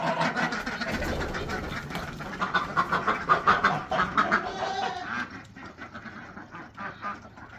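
White Pekin ducks quack repeatedly at close range outdoors on a farm, a busy overlapping chorus that grows louder midway and then thins to scattered calls.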